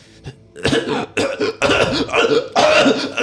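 A man imitates a character's violent coughing fit, with a run of harsh, loud hacking coughs close to the mic that grow denser and more strained, alone without other sound.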